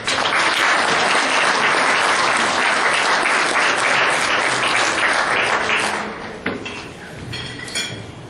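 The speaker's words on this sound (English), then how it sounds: "So let's have a round of applause for Paul Connett." An audience at a lecture applauds loudly and steadily for about six seconds as the speaker is introduced, then the clapping fades to scattered claps and room noise.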